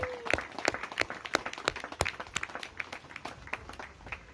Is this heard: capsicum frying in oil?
no